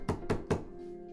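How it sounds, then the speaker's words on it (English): Three evenly spaced knocks on a door from a visual novel video game, sharp and fairly quiet, followed by a faint lingering hum. "Not wanting to listen to this any longer, I decided to knock."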